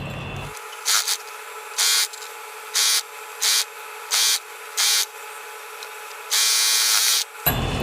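Sewing machine stitching along the folded lower hem of a newborn baby dress, running in short regular bursts of whirring with brief pauses between them and a longer final run, close and steady, no talking.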